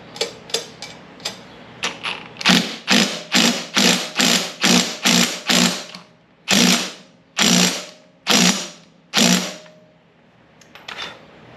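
A ratchet tightens a part on an old lawn mower that had been left out for trash. Loud, close clicking bursts come in a rapid series of strokes, then slow to a few spaced pulls, with no voices.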